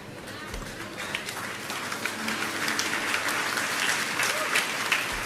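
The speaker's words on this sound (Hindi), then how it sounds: "सबसे पहले तालियां बहनों ने बजाई।" A church congregation applauds, with brisk, dense clapping building steadily and staying loud throughout, with a faint murmur of voices underneath.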